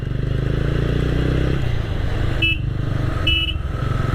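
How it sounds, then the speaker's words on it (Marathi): A motorcycle engine picks up speed on a city ride in Kalyan, recorded from a mic inside the rider's helmet. A steady, loud low drone runs throughout with wind rush, and two short horn toots sound near the end. "आता गाडीचा थोडा स्पीड वाढवूया आणि स्पीडमध्ये आवाज कसा येतो ऐकायला ते बघूया"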